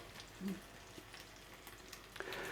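Food frying in a pan at a camp cooking setup, a faint, continuous sizzle with a few soft clicks and scrapes, low in level throughout.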